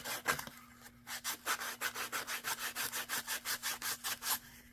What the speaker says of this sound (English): So we'll come along here and sand the bottom a bit.